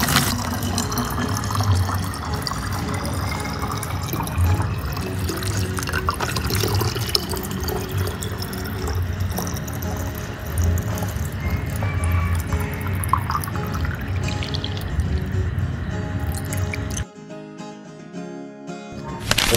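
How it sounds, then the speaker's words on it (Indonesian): Water poured to fill a plastic bottle: a continuous close trickle and splash of liquid running for a long stretch, then cut off into a quieter tail near the end. "isilah botol dengan air sampai penuh"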